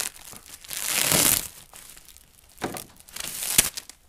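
Shipping paper packed around a delivery of SimpliPhi lithium batteries crinkles and crunches as it is handled, a long rustling burst followed by two shorter, sharper crumples, close and fairly loud with no talking.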